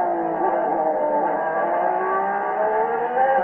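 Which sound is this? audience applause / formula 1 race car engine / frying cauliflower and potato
formula 1 race car engine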